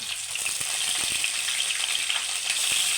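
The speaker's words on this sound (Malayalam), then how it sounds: "കടുക് പൊട്ടി തരുമ്പോൾ വെളുത്തുള്ളി ഇട്ട് കൊടുത്ത്" Garlic fries in hot oil along with mustard seeds for a tapioca pickle, giving a steady, close sizzle dotted with sharp pops and crackles and no talk.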